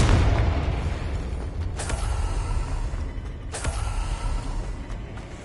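Spell-blast effects in Hogwarts Legacy, a low rumbling bed with two sharp cracking impacts spaced a couple of seconds apart, no talking.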